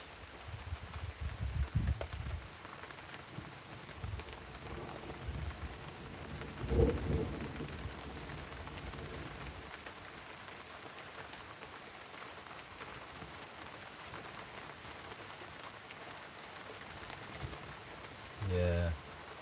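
Heavy rain hisses steadily through a live thunderstorm, with deep thunder rumbling early and a loud crack near the middle, while someone talks intermittently over the storm.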